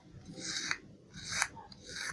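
Scissors cut through dress fabric in three close, rhythmic rasping snips, each a soft rising swish with a faint click at the close.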